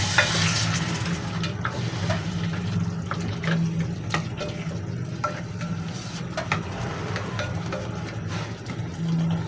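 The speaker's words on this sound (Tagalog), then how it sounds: "Halu-haluin natin." Ground meat and vegetables sizzle steadily in a frying pan while a utensil stirs and scrapes through them, close and continuous, with no talking.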